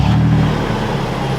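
A Toyota 4Runner engine revs hard through a nearly straight-pipe exhaust with no muffler, a loud, raw, steady drone held close by for about a second and a half with no talk.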